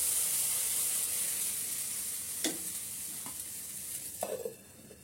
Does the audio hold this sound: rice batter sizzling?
yes